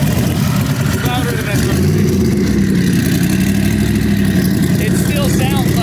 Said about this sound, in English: It still sounds like a V8.